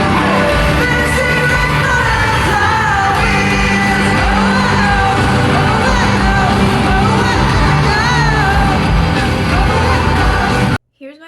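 Loud concert crowd at a show in an Arlington, Texas arena yelling and screaming continuously over booming music, a dense wall of voices, close and unbroken until it cuts off abruptly.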